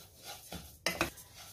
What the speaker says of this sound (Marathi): तीळ भाजताना एकसारखं असं चमच्याने हलवत राहायचे, नाहीतर तीळ करपतात